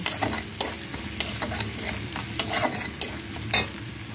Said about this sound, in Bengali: আদাটা দিয়ে ভালো করে আদাটা একটু ভাজা ভাজা করে নেব।